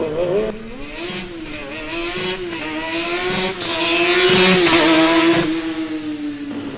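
Formula Student race cars rev and accelerate at a competition acceleration event, a loud, rising engine whine that builds and swells toward the middle before easing, heard near and continuous.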